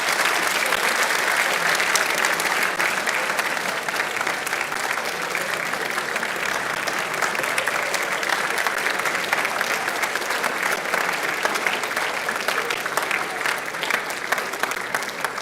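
Sustained audience applause at a Holocaust Remembrance Day school event, steady and dense clapping from a crowd filling the room for about fifteen seconds without pause.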